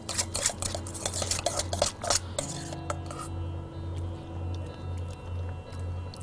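Salmon tartare ingredients dressed with olive oil and pressed lemon juice are stirred in a bowl in a restaurant kitchen, giving quick wet clinks and squishes of utensil on dish for about two seconds, then a softer steady hum.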